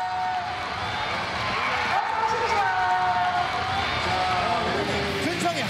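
Teenage and twenty-something crowd at a live internet game-streamer event in Korea, cheering and screaming continuously in a dense, steady wash of voices with shrill whoops rising above it.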